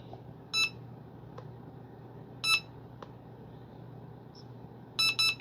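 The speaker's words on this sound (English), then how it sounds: "I'm going to wait for here 2 straight beeps and then pull it down." Three short, bright electronic beeps from an RC plane's receiver and ESC at startup, an Arrows P-51D Mustang 850mm model: a beep pair, a single beep, then a quick double beep, close and clear over a low steady hum.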